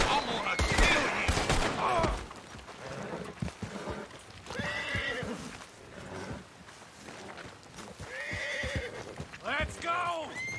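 Horses in Red Dead Redemption 2 neigh and whinny loudly several times over hoofbeats and scattered gunfire in a busy outdoor chase, with shouting voices mixed in.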